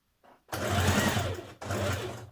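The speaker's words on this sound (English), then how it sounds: "a 1 centimetre seam allowance when you're sewing the neckband in place" A sewing machine stitches the neckband seam of a Simplicity 8384 dress in two close, loud whirring bursts after a brief mechanical tap, with a short pause between runs.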